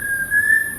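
A bird in the mountains gives a single thin, steady whistle, clear and sustained for under a second against faint background hiss.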